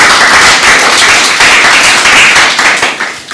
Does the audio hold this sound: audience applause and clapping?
yes